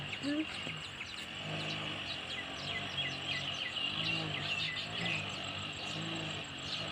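Many small weaver birds chirp and twitter continuously in the background, faint and busy, while someone talks over them.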